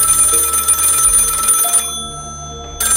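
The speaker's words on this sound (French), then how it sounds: "Et c'est là que la sonnerie a retenti à nouveau" A telephone in a call center rings with a steady electronic bell tone, loud and close; the ring cuts off briefly near the end, then starts again.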